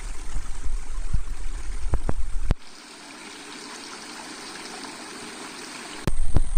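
Water from a stream flows through a traditional Kokan village weir and channel with a steady rushing wash, broken by a few sharp knocks early on and a louder surge of flow at the end.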